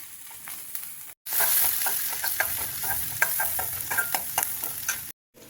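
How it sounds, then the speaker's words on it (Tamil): Close, steady sizzling of chopped shallots sautéing in a pan over low heat, with occasional scraping stirs, cut by brief silences at the start and end. "அடுப்பை சிம்மில் வச்சு வெங்காயத்தை நல்லா வதக்கிக்கலாம்"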